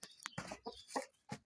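An adult Bahama-breed rooster clucks in several short, quiet, irregular bursts with gaps between them.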